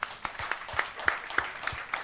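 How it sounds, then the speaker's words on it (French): An audience at a business gala for HR and purchasing professionals claps in a brief, moderate round of applause. The claps come in a fairly regular rhythm and sound somewhat distant, with no talk over them. "je pense que ça vaut un bel applaudissement pour les directeurs achats"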